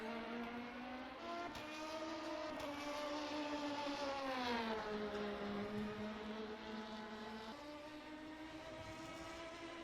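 Number 69 car of the Chandler's Ford Chargers team in a 24-hour endurance race: a faint, distant engine whine that rises and falls as the car goes by. The sound is continuous, with no talk over it.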